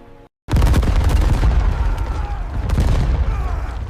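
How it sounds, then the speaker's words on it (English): Cannon and gunfire roar in the battle at Saint-Marc: after a brief quiet gap, a sustained, loud barrage of booming blasts and dense gunfire fills the scene, with no voices. "The guns of Saint-Marc opened fire."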